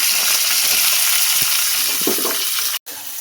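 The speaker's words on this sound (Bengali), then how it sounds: "ঢেঁড়স আর আলুটা ভালো করে ভেজে নেবো।" Okra and potato pieces sizzle loudly in hot oil in a pan, a steady dense hiss with small crackles and a brief break near the end.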